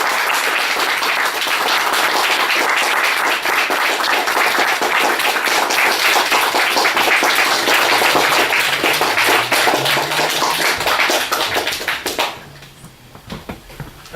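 A literary reading audience breaks into loud, dense applause and clapping that holds strong for about twelve seconds, then abruptly fades to scattered claps and murmur.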